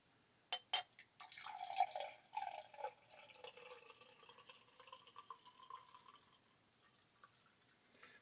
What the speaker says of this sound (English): Well, a dark pour.